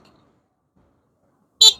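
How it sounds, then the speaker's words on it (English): After near silence, the horn on an EKX X21 Max electric dirt bike gives a single short, sharp toot during a ride. "Give him a honk."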